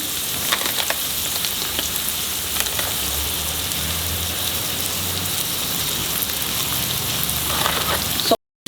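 Onions sizzle steadily in a pan after being salted, frying toward translucent for a flat beans vegetable dish; a continuous, fairly close crackling hiss runs alone without pause, then cuts out abruptly near the end.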